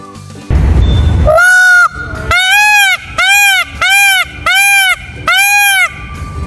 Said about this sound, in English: The Indian peafowl lives in the forests and farmlands of India and Sri Lanka. This is the sound they make when they communicate.